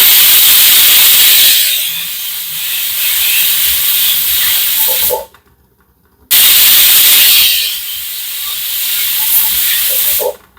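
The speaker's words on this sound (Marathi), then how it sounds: "दोन शिट्या झाले, आता मी गॅस बंद करते आणि ह्याची आता शिटीची वाफ गेली की मग आपण कुकर उघडूया." A pressure cooker with field beans hisses loudly as steam rushes out in a steady blast. The hiss cuts off for about a second, then returns just as strongly.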